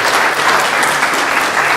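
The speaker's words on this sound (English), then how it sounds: "we want to give just a round of applause for all of those who shared the regalia with you" Dense, sustained applause from a crowd at an American Indian regalia showcase, loud and continuous with no pause across the short stretch.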